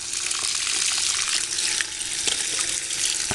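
Tap water runs steadily over a Lego Technic 42077 car during washing, a close, continuous hiss and splash with no break.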